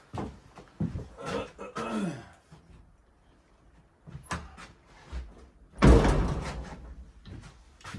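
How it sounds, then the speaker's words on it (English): A door swinging shut in a workshop with a Stihl 028 Wood Boss chainsaw, ending in a single loud, close thud near the end, after some nearby shuffling and handling noises. "me close this door."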